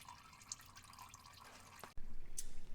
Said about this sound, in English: while we're letting our oil drain out at the bottom